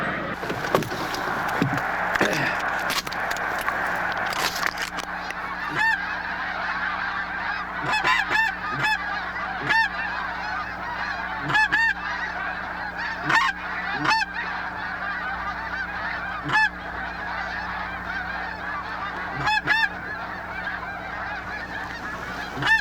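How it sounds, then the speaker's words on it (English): A flock of swans calling overhead while out on a hunt: repeated honking calls, some overlapping, steady over a constant background hiss, with a few sharp clicks early on and no talking. "Are they snow geese? No, they're swans."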